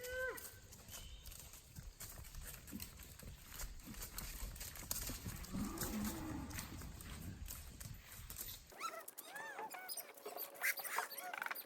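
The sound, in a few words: cows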